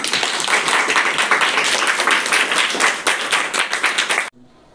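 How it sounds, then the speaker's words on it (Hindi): A Class 6 maths classroom bursts into loud, dense clapping from many students, steady and close for about four seconds before cutting off abruptly into near silence. "एक बार जोरदार ताली।"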